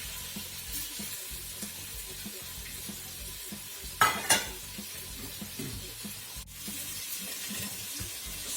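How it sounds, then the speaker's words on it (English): Pieces of ossobuco sear lightly in a hot pan with a steady broadband sizzle, interrupted by a couple of sharper clattering knocks midway and a brief drop near the end. "So we'll take our ossobuco, throw it over the pan. I'm just going to give it a light sear."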